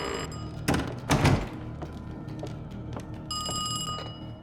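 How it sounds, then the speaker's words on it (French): A telephone rings in a video game set in Berlin, with bright trilling rings at the start and again near the end, a dull thump and clatter in between, no voices. "Je vais téléphoner chez Kraus."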